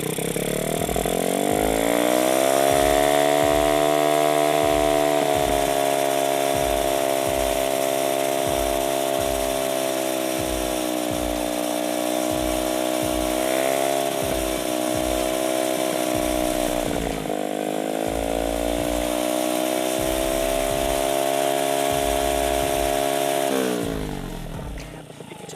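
A carbureted motorcycle engine fitted with a PE carburetor revs hard and holds near its highest RPM, a loud, steady buzzing drone with rapid pulsing firing beats. The pitch dips and climbs twice before it drops off at the end.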